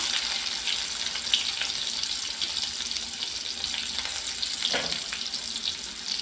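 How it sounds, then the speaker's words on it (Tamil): Steady, hissing sizzle of onions frying golden in oil for sambar, a constant bright crackle throughout with no talking, close up and moderately loud. "வெங்காயம் பொன்னிறமாக வறுத்துக்கணும்."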